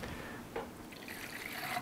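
Liquid nutrient for anthurium plants is squirted from a syringe, producing a soft, close trickle with a couple of small drips and splashes and no talking.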